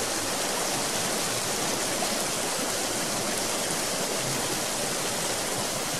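Water in the survival game Road to Eden, a loud, dense, constant rushing like a stream or waterfall that holds steady with no pauses or voices.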